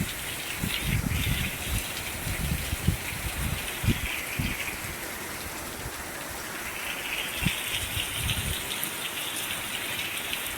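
Heavy monsoon rain falls on a farm field in a steady, dense hiss, with scattered heavier drops and low thumps throughout and no voices.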